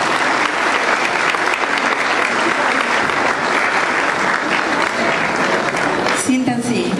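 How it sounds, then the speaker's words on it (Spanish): Studio or event audience applauding in honor of radio announcers, a loud, dense, steady wash of clapping that holds throughout, with a brief faint voice near the end. "Un aplauso muy fuerte para ellos."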